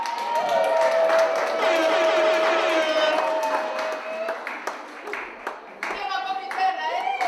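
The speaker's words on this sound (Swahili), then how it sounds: "Mpigie makofi Fatuma." Audience at an International Women's Day celebration clapping for a woman called up to receive a blanket as a gift, steady scattered applause mixed with excited voices and a high ululating cry, tapering off toward the end.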